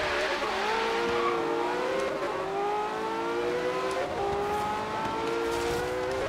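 Porsche 918 Spyder with a 1450 HP build racing online in Forza Horizon 3: a loud, steady engine drone with rising and falling pitch sweeps through gear changes, and tire noise throughout.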